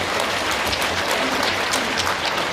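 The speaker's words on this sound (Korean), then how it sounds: "이 두 분 도의원에게 한번 동료의 박수 한번 부탁드리겠습니다." Audience applause at a political gathering, a dense continuous wash of clapping throughout, even in level and heard without speech.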